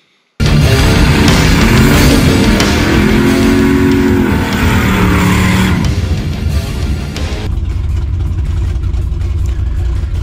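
A drag racing car rolls through the staging lanes with a loud, steady engine drone up close, pitch rising and falling slightly before settling into a lower, rougher idle-like rumble.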